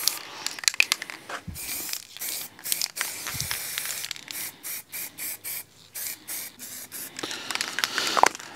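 Spray paint hisses onto an aquarium background in a run of short, loud bursts with brief gaps between them, close to the listener and with no voices heard.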